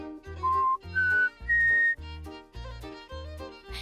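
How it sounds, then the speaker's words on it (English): Cartoon whistling from a children's animated show: a short series of clear whistled notes stepping upward in pitch, each held briefly over a soft bouncing musical backing, with no talk. "If your parrot isn't speaking, try an easier sound like whistling."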